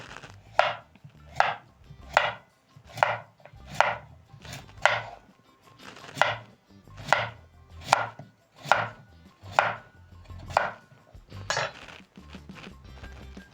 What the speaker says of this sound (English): using a sharp knife, I'm going to cut the potatoes lengthwise.